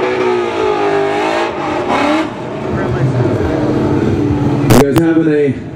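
A Ford Mustang engine revving at a drift demo at the SEMA Show, loud rising and falling revs near by, mixed with crowd noise and talk, ending with a couple of sharp bursts.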